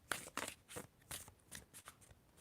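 Tarot cards being shuffled in several quick riffling bursts, crisp and close, with short pauses between them.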